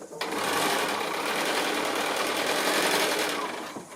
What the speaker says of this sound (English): I'll just quickly do that second line of sewing